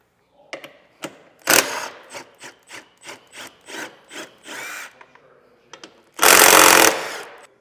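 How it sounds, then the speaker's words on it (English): On a 2022 Ford Bronco, bumper bolts come out with a 15mm socket ratchet: a run of about a dozen short, evenly spaced clicking strokes, then a longer, louder spinning burst near the end. "We're going to remove these 3 bolts."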